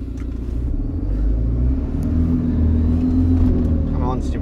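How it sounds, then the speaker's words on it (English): A lorry engine labours in a low, steady rumble, straining continuously before a gear change, with loud cab vibration throughout and someone talking over it. "come on, stupid lorry, change gear"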